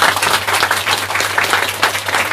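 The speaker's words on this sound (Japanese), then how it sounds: "拍手。" A crowd applauds steadily, many hands clapping in a dense, lively patter, fairly loud and close, with a low hum underneath.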